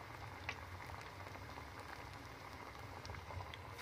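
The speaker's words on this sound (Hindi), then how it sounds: "उनको हल्की आंच पे फ्राई करेंगे, क्योंकि जो सारी चीज़ें इसमें शामिल की हैं हमने वो कच्ची थी" Cabbage cutlets frying in oil over a low flame give off a steady, soft crackling sizzle with faint scattered pops, quiet and continuous throughout.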